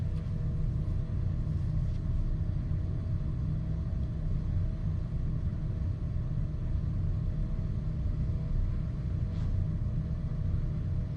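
An electric pottery wheel spinning with clay on it during a throwing demonstration, a steady low motor hum and rumble running continuously at an even level, close and unbroken.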